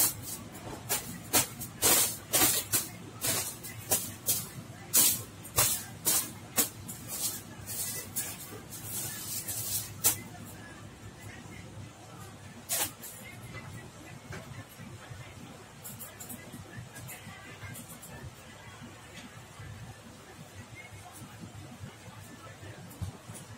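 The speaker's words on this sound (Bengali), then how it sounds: "এই যে ঘরটা ঝাঁট দিয়ে নিচ্ছি।" A broom sweeps a room floor in quick rhythmic swishes at first, then settles into softer, sparser strokes, with a person talking over it throughout.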